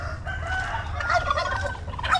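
A rooster crows, a native darag and parawakan chicken cross, in a short hoarse call lasting about two seconds, moderately close, over low rumbling background noise.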